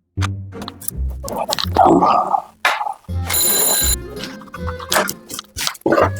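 An alarm clock rings in a short burst of bright, buzzing tone in the middle, surrounded by busier, choppy sounds and brief noise.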